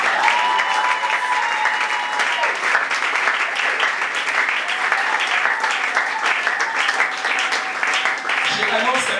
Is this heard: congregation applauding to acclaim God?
yes